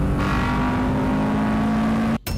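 A Honda K-Series VTEC engine holds a high, steady rev for about two seconds, loud and close, then cuts off abruptly.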